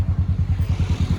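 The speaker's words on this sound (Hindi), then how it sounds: "आज तो भाई बाइक से ही आ रहा है।" A motorcycle arrives near the Ranikhet golf course, its engine close and loud with a fast, even thumping idle pulse repeating throughout the short moment.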